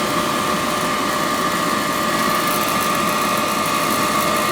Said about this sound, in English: the fan just kicked on